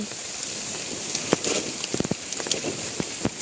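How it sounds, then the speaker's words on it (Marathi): Rain falls outdoors during a monsoon crab-hunting outing, a constant hiss with scattered sharper drops and patters hitting nearby surfaces, fairly close and steady throughout, with no voices. "थांबूया जरा, पाऊस आहे पण."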